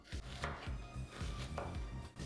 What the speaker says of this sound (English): We chop the onion, in my case, both red and white.